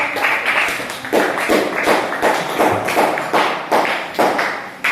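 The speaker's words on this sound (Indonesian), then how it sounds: "Kita berikan aplaus untuk kelompok" Classroom applause for a presenting student group, a steady run of many hand claps with rhythmic peaks, fairly close and loud, no talking over it.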